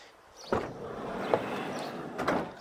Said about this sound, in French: quand on arrive du côté droit, on retrouve bien la porte latérale